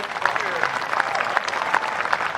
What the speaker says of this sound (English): Can we have another round of applause for the Boulder State